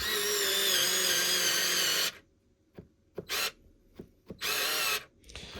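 A Parkside electric screwdriver set to maximum torque whirs loudly and steadily as it drives a screw, then stops and gives a few short bursts with clicks between them.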